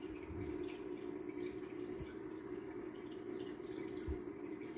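Home aquarium tank being filled during a water change with mollies inside: a steady, faint rush of running water with a couple of soft drips, continuous throughout and with no talk.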